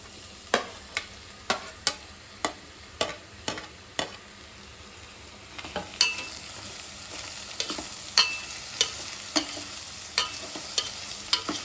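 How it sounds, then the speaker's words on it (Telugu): Tomato pieces stirred into cabbage frying in a pan, giving a steady sizzle broken by a regular series of sharp utensil scrapes and taps, close and fairly loud, with no talking. "ఇప్పుడు టమోటా వేసుకుందాము."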